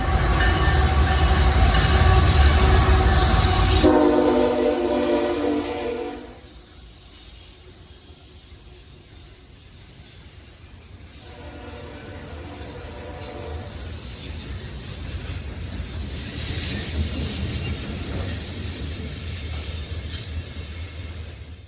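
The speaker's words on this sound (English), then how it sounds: "what better train to see emerging from an Appalachian tunnel than a coal train?" A heavy CSX coal train emerges from an Appalachian tunnel and rumbles past with a loud engine drone that fades into a steady rolling clatter of wagons on the rails.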